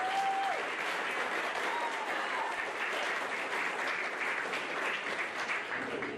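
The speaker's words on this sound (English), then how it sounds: "so a nice round of applause for them" Steady, dense applause from an audience at a high school spring sports banquet, filling the room evenly from start to finish with no voices standing out.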